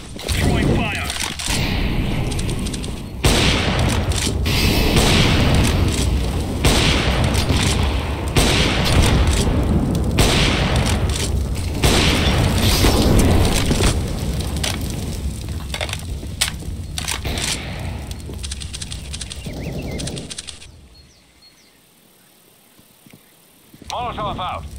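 Smoke grenade and molotov fire in Counter-Strike: Global Offensive on the Inferno map: a loud, dense hissing roar with crackling bursts for about twenty seconds, then a sudden drop to near quiet, with players talking over it.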